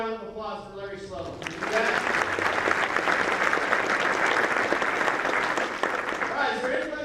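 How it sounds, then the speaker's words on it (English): Sustained applause from a crowd at a fieldhouse ribbon cutting ceremony, starting after a brief voice and holding steady at a loud, dense level for several seconds. "how about one more round of applause for Larry Sloan?"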